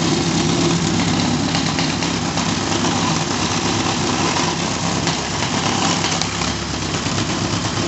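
A 1980 Triumph TR7 engine idles at about 1,000 rpm with its exhaust pipe loose, a loud, close, steady rumbling drone that runs without a break and with no talking over it.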